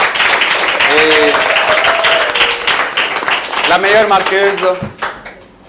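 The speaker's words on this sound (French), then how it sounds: "On les applaudit quand même, ça a été très bon." Audience clapping for high school teams at a quiz competition, a burst of applause heard beneath a loud voice talking over it, fading out near the end.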